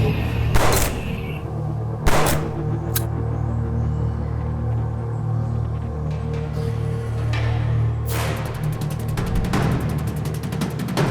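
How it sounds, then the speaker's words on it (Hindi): Gunfire in a dubbed sci-fi action movie battle: several sharp loud shots crack out at irregular intervals over a steady low hum and rumble, with a burst of rapid firing near the end. "उनके सर पर गोली मारो"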